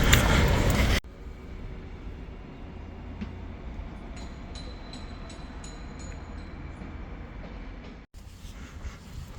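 A train rumbles steadily, opening with a loud rushing surge for about a second, then settling into a lower continuous drone with faint, regular clicking, before another surge at the end.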